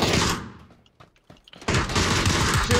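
Gunfire in a PUBG match: a loud burst of shots, a near-silent gap with a few scattered pops, then heavy continuous firing resumes.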